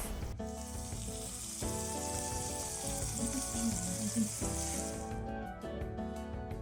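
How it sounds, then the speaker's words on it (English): Pork sizzles steadily in a hot pan with soy sauce as it is stir-fried for Japanese tantanmen, a loud continuous frying crackle with a few stirring clinks and scrapes, no voices. "add 1 tablespoon of soy sauce and continue to stir fry it"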